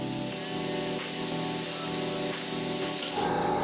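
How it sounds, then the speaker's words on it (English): An airbrush sprays acrylic paint onto a leather jacket, a close, continuous hissing spray with a faint compressor hum, then cutting off abruptly near the end. "With the edge stencil, I can spray these skulls again"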